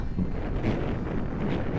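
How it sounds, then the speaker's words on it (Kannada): Strong wind roars and buffets the microphone in a continuous low rumble, with no other sounds standing out. "ನೋಡ್ಕೊಳ್ಳಿ ಎಷ್ಟು ಗಾಳಿ ಬೀಸ್ತಾ ಇದೆ ಅಂತ"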